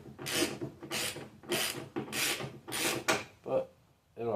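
Rhythmic hand sanding in a car engine bay, about six steady back-and-forth rasping strokes close by, followed by a couple of lighter, shorter scrapes.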